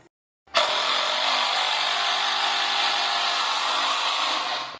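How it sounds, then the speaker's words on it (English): A power driver used on wood boards starts abruptly after a short silence and holds a loud, steady whirring drone close by for several seconds, alone. "We're going to start screwing it together."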